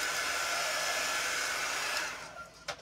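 A hair dryer blows steadily on freshly painted wood, a loud continuous whoosh that winds down toward the end, followed by a brief clunk.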